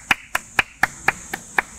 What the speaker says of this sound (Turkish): bir alkış ya